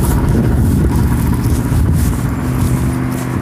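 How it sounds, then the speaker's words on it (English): A truck rolls along the road nearby, its engine a steady broadband rumble that holds loud throughout, with a faint hum emerging toward the end. "That's the truck back there."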